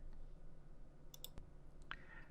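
One faint, sharp mouse click comes at a computer with SharePoint list settings open, set against a quiet background and a few soft tiny ticks.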